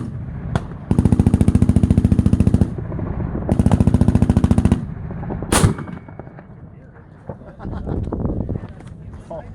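Heavy machine gun firing at the Big Sandy machine gun shoot, two loud rapid sustained bursts of closely spaced shots outdoors, followed by a single sharp crack, with people talking nearby.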